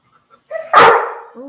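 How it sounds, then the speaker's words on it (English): A dog gives a single loud, close bark after a couple of faint whimpers, with a short whine trailing after it in a quiet kitchen. "He's just happy about the world, so he's just barking it up."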